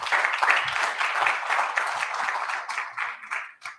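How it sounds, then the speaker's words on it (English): A conference audience at a business event in Namibia claps steadily for a team, a dense wash of applause that thins and tapers off near the end. "Round of applause to Gareth and his team."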